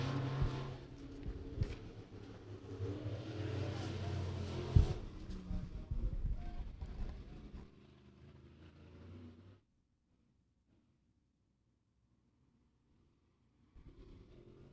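A race car runs a qualifying lap at Beckley Motor Speedway, its engine roaring loud and steady for several seconds before dropping away and cutting off into near silence.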